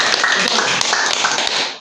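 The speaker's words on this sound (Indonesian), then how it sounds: "Tepuk tangan buat para ketua RT" Applause at a community podcast event honoring neighborhood heads in Indonesia, a short, steady patter of clapping hands heard close and fairly loud for under two seconds.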